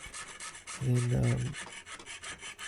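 A hand file rasps in short, rhythmic strokes on a small silver watch part. The scraping is close and fairly quiet, and a low tonal hum is heard briefly partway through.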